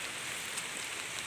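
Steady rain falls on an oil palm plantation during the harvest, giving a constant, even hiss with no breaks and no voices.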